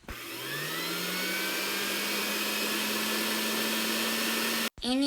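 An electric mixer whirs steadily as it beats cake batter with powdered sugar, a loud continuous motor drone that rises in pitch at the start and cuts off abruptly near the end.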